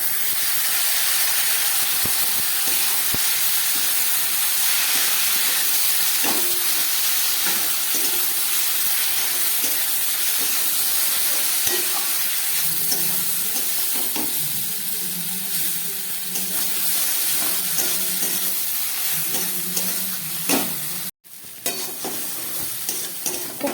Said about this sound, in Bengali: এবার এই ডালটা দিয়ে দিচ্ছি সিদ্ধ করে রাখা।